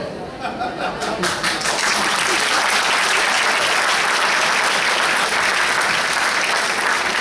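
Audience breaks into applause in a hall, a few scattered claps swelling within a second into loud, sustained clapping from many hands, with light chuckles among the crowd.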